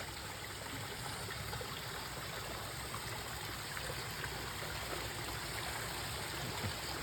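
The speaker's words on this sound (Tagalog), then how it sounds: "Ito yung mga nagasdas ng tubig galing sa bundok." Cold mountain water pours steadily through a hose at a lodge summer camp, making a continuous close, even rush and trickle with no break.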